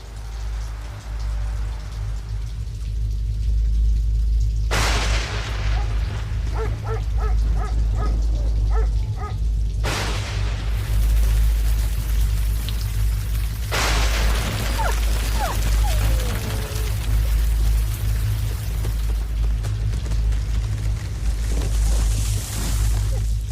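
A severe storm sweeps over Aikendal in the African bush, with heavy rain hissing steadily under a deep low rumble and several loud crashing bursts spaced a few seconds apart.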